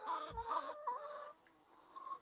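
Chickens cluck close by in their coop, a short burst of several quick, overlapping clucks and murmurs that fade toward the end.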